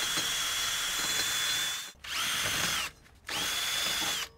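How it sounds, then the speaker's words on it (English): A power drill spins a wire brush with a high whine and scratchy grinding, cleaning a 2006-2012 Toyota RAV4 front wheel hub, running in three bursts separated by short pauses. "You can also take a wire brush on a drill to help us out."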